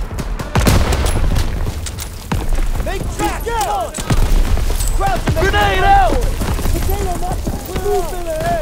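Call of Duty WWII battle with a grenade blast and bursts of gunfire, loud booms and rattling shots under shouted voices throughout.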